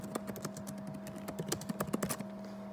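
Fingers tap quickly on a computer keyboard, a close, quiet run of irregular key clicks that bunches into a faster burst near the end over a faint steady hum.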